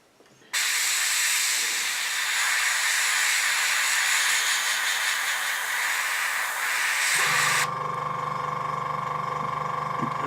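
An airbrush spraying paint onto a Eduard Spitfire scale model, one loud, sustained airy hiss that starts abruptly, runs about seven seconds, then cuts to a lower, fainter hiss.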